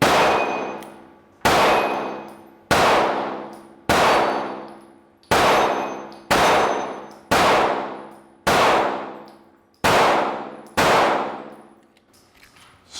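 A SIG P365 pistol fires at a shooting range. Nine sharp reports come at an even pace, about a second apart, and each leaves a long metallic ringing tail. No voices.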